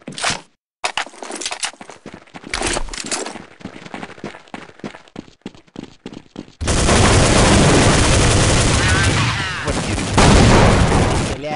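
Gunfire in Counter-Strike 1.6 comes as a burst of sharp single shots, then a run of rapid repeated shots, then a long dense stretch of continuous fire. A short spoken word is heard near the start.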